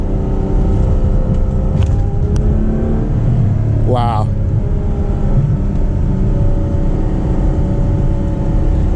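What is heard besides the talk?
Ferrari 812 Superfast accelerating and shifting gears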